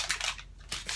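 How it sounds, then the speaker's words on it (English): Frozen butter sticks being unwrapped for ghee, the paper wrapping rustling and crinkling in two close, brief bursts separated by a short pause. "So I'm just going to unwrap these and throw them in."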